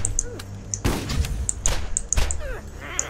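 Shotgun blasts in the Borderlands video game from a midget enemy, three heavy booming shots spaced about a second apart, each with a sharp thud and a ringing tail, over game effects.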